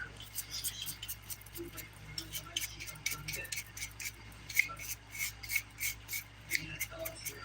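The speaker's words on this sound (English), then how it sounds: "I'm gonna use a nail brush and some rubbing alcohol to clean off my hand." A hand scrubbed with a nail brush and rubbing alcohol after a glitter ombré dip powder manicure: soft, rhythmic rasping strokes repeat close by under a person talking.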